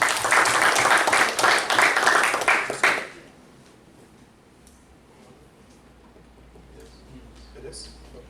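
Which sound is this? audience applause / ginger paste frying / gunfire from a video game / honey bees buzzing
audience applause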